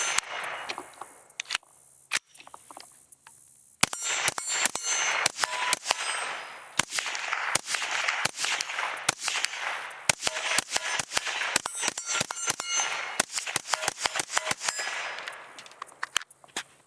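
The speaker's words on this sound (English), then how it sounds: "let's go ahead and shoot this doggone thing some more because it is so much fun" A Kel-Tec CMR-30 concealable carbine fires many sharp, loud shots, some single and some in rapid strings, with short gaps and a longer pause early on, over roughly seventeen seconds.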